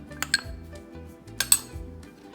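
Chicken coated in sauce and two tablespoons of cornflour is mixed by hand in a bowl, with a few sharp spoon clinks against the dish over a low steady background tone.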